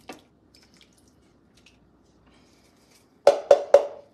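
A large can of diced tomatoes emptied into a slow cooker: near-silence broken by a few faint ticks, then three quick, close, wet plopping glugs in a row as the contents slide out.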